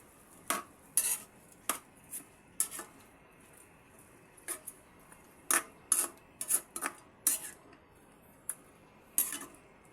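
A spoon scrapes and taps against a pot of adobong paa ng manok, chicken feet cooking in a home kitchen, in quick irregular clinks and stirs, close but soft, with no talking.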